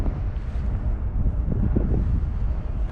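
Steady wind gusts buffet the microphone outdoors at Resthaven Cemetery in Illinois, a loud, continuous low rumble with no speech.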